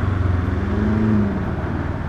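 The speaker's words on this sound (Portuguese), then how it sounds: "Caminhão, ônibus." Heavy trucks and buses in congested Brazilian city traffic, heard from a Kawasaki Versys 1000 motorcycle, with a steady low engine drone and a rising tonal whine from a nearby vehicle mid-clip.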